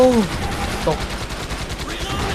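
Gunfire from the Elite Forces video game in survival mode, a rapid run of shots with short tonal effects at the start, steady and fairly loud throughout with no clear speech.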